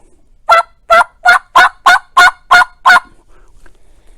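Eight evenly spaced, loud, honking yelps come from a turkey call mimicking a wild turkey, each a short bright note about a third of a second apart, followed by quiet breathy rustle.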